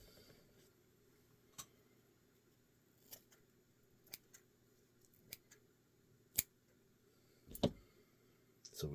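Scissors trim material for a tiger bucktail jig in a quiet room: about six or seven crisp, isolated snips spaced a second or so apart, close to the mic and otherwise silent.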